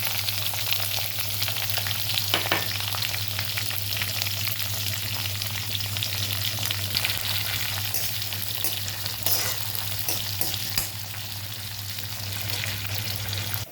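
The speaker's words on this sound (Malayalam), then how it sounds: "ഇനി നമ്മളതിലേക്ക് വേപ്പിലയും ചുവന്ന മുളക്, നമ്മൾ ചെറിയ ഉള്ളി കൂടി അരിഞ്ഞ് വെച്ചിടും." Curry leaves, red chillies and sliced shallots fry in hot oil for a Kerala tomato moru curry, a steady, dense sizzle and crackle that holds at an even level close by, with occasional stirring.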